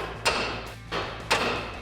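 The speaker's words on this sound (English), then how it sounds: "now I'm gonna take a hammer and hit right here." A hammer strikes a truck's upper control arm to pop the ball joint loose on a 2010-2014 Ford Raptor front suspension, giving three sharp metallic hits spaced about half a second apart, close and loud.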